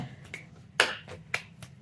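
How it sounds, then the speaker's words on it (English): A few sharp finger snaps ring out one at a time, close and crisp against quiet room background, with short gaps between them. "All that snapping, clapping, tapping, in the past."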